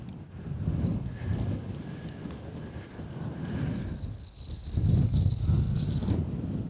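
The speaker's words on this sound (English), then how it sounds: "It's very windy at the moment." Strong wind buffets the microphone on a mountain hike toward the summit of High Street near Kidsty Pike, a continuous loud roaring rumble that swells in gusts and peaks near the end.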